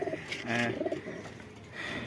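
Pigeons in a keeper's collection coo softly nearby, a few rounded, throaty calls rising and falling over a quiet background with no talking.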